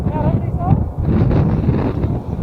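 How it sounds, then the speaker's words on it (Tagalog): Heavy wind buffeting a microphone with a low, rumbling roar throughout, while a voice speaks over it. "Lakas ng hangin guys."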